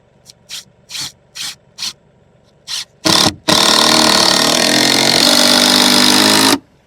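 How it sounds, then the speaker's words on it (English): A power drill driving screws to fasten a mobile chicken coop onto a trailer: several short whirring bursts, then one long sustained loud run of the drill, close up. "So I'm just going to screw it down."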